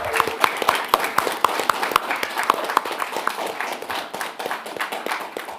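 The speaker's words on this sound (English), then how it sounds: "A very well-deserved round of applause for Grayling there" An audience applauds the moderator at a gun control debate with rhythmic, fairly close clapping. Distinct sharp claps at first give way to a looser, uneven patter that carries on to the end.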